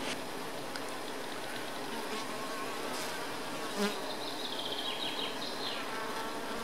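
Honeybees hum and buzz at the hive in a steady, dense drone, with individual bees flying close past the listener now and then.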